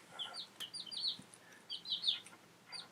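Cornish Cross meat chicks peep in a run of high, short chirps, several overlapping in quick bursts. They are close and clear against a quiet background, with no talking.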